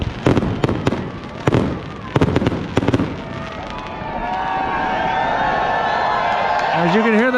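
Rapid bursts of fireworks pop and crackle in loud clusters, then give way to a sustained roar of a cheering crowd with whistles near the end.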